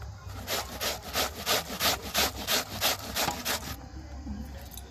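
A ripe ash gourd is grated into small pieces, giving about ten even, rhythmic rasping strokes back and forth, close and fairly loud, before trailing off near the end.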